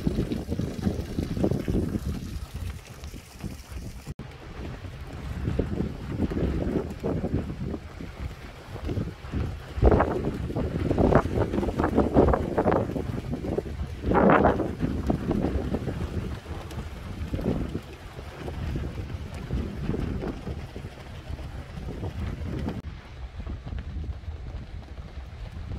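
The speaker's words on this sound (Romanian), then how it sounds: "Dar ce vânt!" Strong gusting wind buffets the microphone on the coast at Tofino, a loud, continuous low roar that swells and dips throughout, with faint sounds of water in the background.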